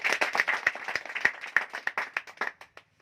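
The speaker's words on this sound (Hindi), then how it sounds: "उनके लिए एक ज़बरदस्त तालियां।" Applause from a Hindi-speaking business seminar audience welcoming guest speakers, a modest crowd clapping with distinct, uneven individual claps that thin out and fade over a few seconds.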